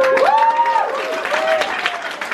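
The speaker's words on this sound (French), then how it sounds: "Je crois qu'on peut applaudir." An audience at a Montreuil street demonstration by artists and authors applauds briefly, with a whistling, gliding tone riding over the clapping crowd.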